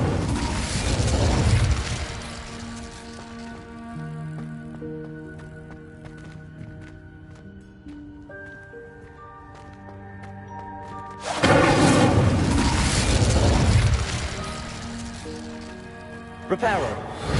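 A spell's burst in the Hogwarts Legacy game: a loud whooshing, booming impact at the start and another broad surge midway, with sustained musical tones and game sounds between them.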